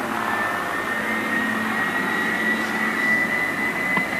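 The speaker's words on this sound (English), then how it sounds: "A beautiful aeroplane, the Grumman Widgeon." Grumman Widgeon amphibious aeroplane at a Biggin Hill air show, its engines producing a steady, continuous drone with a sustained tonal whine, moderately loud and without voices.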